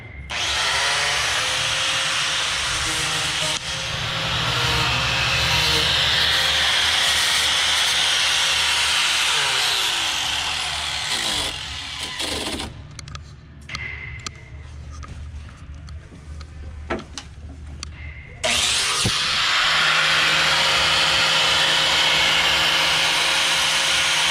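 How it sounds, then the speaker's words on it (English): An angle grinder runs loud and steady, cutting during a plexiglass sunroof delete on an E46 drift car, with a pause and rough rattling midway before the grinding resumes at full volume. "There's Mike gripping a live grinder."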